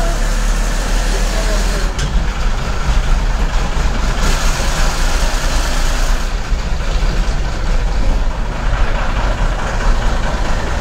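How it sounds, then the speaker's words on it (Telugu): The Epur bus idles at the Tenali bus stand, its engine a loud, continuous rumble with a steady low drone, mixed with busy station noise and voices. "ఈపూర్ బస్సు తెనాలి బస్ స్టాండ్లో బయలుదేరింది"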